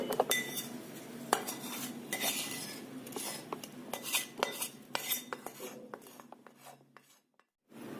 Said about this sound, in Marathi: फोडणी छान मिक्स करून घ्यायचं